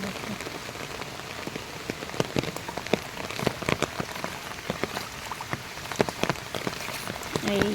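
Steady rain falling on water and wet ground in Bangladesh, heard as a close, even patter dotted with many distinct drop splashes and taps throughout.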